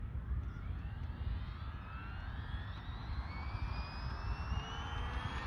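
An Arrma Big Rock RC car with its stock motor on a 3S lipo running at full throttle: a continuous high electric whine climbing steadily in pitch over a rough, rumbling drivetrain, heard from a distance and fairly faint.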